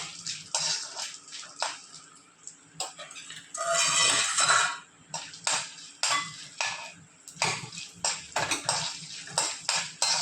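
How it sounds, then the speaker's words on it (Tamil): Dried turkey berries frying in hot oil in a kadai, giving crackling sizzle bursts and stirring clinks against the metal pan, close and steady with a louder hiss midway. "ஒரு கடையில் எண்ணெய் ஊற்றிருக்கோங்க இந்த சுண்டக்காவை நல்லா வறுத்து எடுத்துடணும் முதல்ல"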